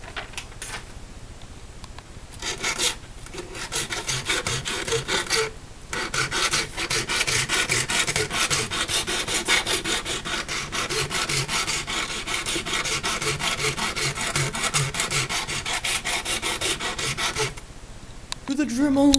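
A small piece of metal is sharpened on a homemade sharpening jig, giving a steady, close rasping and rubbing that runs almost nonstop, with brief pauses near the start and end.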